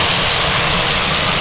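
A fixed-wing airplane engine roars loud and close at Manchester Airport, a broad steady jet-like rush filling the whole short stretch with no break.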